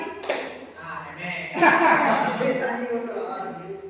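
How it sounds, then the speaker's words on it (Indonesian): Students in a classroom clapping hands in counted patterns as a concentration exercise, a few scattered claps under a teacher's voice and some light laughter. "tepuk tangan 2 kali, tepuk 4 kali"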